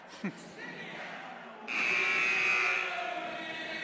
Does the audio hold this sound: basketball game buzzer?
yes